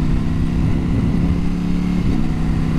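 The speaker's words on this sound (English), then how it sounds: "Quick shifter and blipper is incredible on this." A Ducati Panigale V4S engine revs with its quick shifter and auto-blipper, a loud, steady, throaty drone with a slight pitch dip near the end, close up with no talk.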